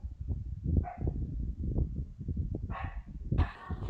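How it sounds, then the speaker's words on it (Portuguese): Several dogs bark in short bursts at a moderate distance, with a few higher yips between the barks and faint rustling in the background. "Vocês estão ouvindo aí o barulho dos cachorros latindo?"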